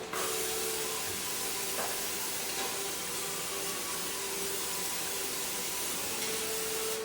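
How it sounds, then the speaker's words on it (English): Non-stick cooking spray hisses from an aerosol can into a springform pan, one long, steady, soft spray running several seconds with a faint background hum. "you want to take some of your non-cooked spray, and you want to spray that very well."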